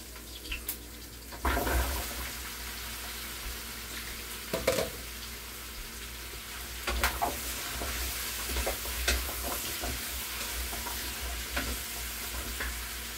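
Squash pieces being sautéed in a pan for a mixed vegetable dish in coconut cream, a steady low sizzle with occasional stirring knocks and scrapes, close and moderately quiet.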